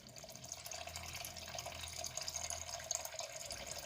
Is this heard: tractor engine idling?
no